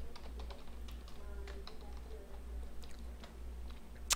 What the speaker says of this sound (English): you would simply click here and go in and type in your new password